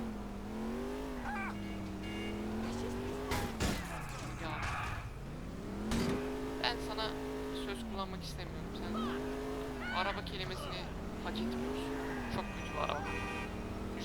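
Car driving in the video game GTA IV, the engine tone rising and falling in repeated revving swells with occasional sharp bangs and screeches, heard under a person talking.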